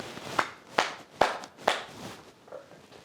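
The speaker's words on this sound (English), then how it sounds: "Can I get you to give me one big loud clap?" Four sharp claps ring out at a steady pace, followed by a quieter fifth, in a fairly quiet space.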